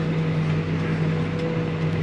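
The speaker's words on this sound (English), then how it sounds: "turn the macerator on." Tractor-driven slurry tanker with its macerator running out in a field, a loud steady droning hum with a constant mechanical tone throughout and no talk.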